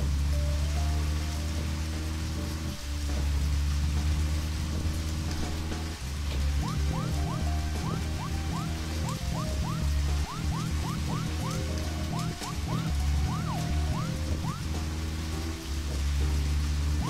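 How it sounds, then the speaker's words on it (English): Heavy rain falling in the video game Deadly Premonition, a continuous loud hiss of downpour with a low steady hum beneath and occasional tonal chirps, going on throughout without speech. "Like the wall of rain."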